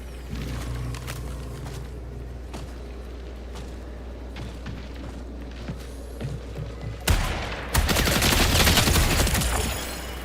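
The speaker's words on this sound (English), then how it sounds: "Three shots to eliminate someone with this gun." Video game gun battle with scattered distant shots over a low engine-like drone, then sudden loud close gunfire bursts near the end, sustained and heavy.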